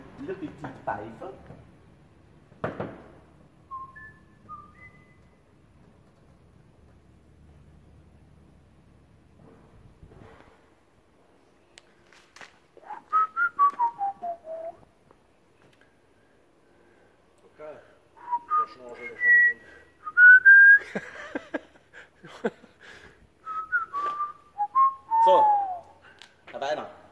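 Someone whistles a melodic tune in short bursts, rising and falling phrases near the microphone, separated by quiet stretches and a few knocks and handling noises.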